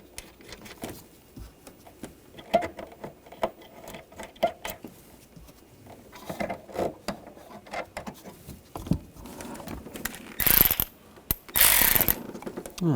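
Ratchet tightening the nuts on the tail light of a 2007-2013 BMW X5, a quiet run of small clicks and fiddly clatter, then two harsher bursts of rapid ratcheting near the end.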